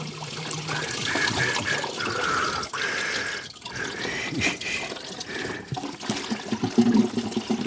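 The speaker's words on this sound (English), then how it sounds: "Here it all comes. Pouring out the radiator." Coolant gushes out of a Rover 75 radiator during thermostat removal, a steady close watery splashing and trickling that runs throughout with small drips and knocks.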